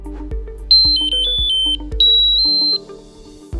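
Cardiac monitor alarm warning of a detached electrode or disconnected lead wire: high electronic tones in short, repeated bursts over a low steady hum, close and clear.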